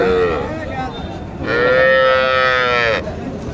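A cow at a cattle market, with small Sahiwal and local heifer calves about, lets out a loud sustained moo lasting over a second, close by, after a shorter low call, with faint voices and bustle behind.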